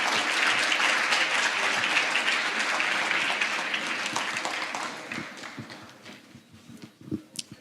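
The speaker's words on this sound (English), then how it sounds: "Another round of applause." Meeting audience at an annual general meeting gives a round of applause, dense clapping that gradually thins into scattered individual claps before fading out.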